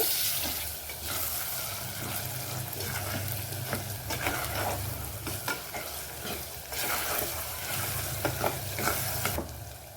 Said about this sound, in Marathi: हे सगळे मसाले टाकल्यानंतर चांगलं मिक्स करून घ्यायचे